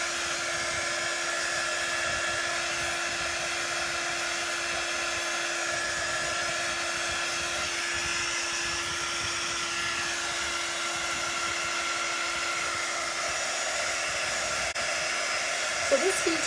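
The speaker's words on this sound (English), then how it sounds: "So this heat tool doesn't really, it blows warm air, but it's not a real hot air. So it's mainly blowing warm air to help dry this." A craft heat tool blows warm air over drying paint, giving a steady, loud, unbroken whoosh that carries on alone for the whole stretch, with no talking.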